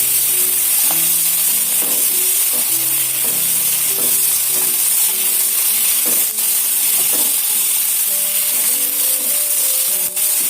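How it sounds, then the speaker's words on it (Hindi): A medium potato, chopped, fries with onions in a pan for aloo matar gosht, giving a steady loud sizzle with stirring scrapes and occasional clinks throughout, no talk. "इसे भी मैं 2 मिनट फ्राई करूंगी।"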